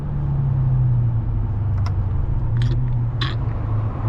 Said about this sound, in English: That's one thing about these pops and burbles.